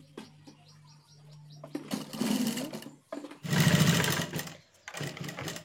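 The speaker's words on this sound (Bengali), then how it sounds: "আমি এলাস্টিকটাকে এইভাবে 2-4 বার সেলাই দেবো এর উপরে, মজবুত হবে বেশি" A sewing machine runs in three short bursts of fast stitching, stitching a 17-inch, 1-inch-wide elastic band over and over, with light clicking handling noises between the runs.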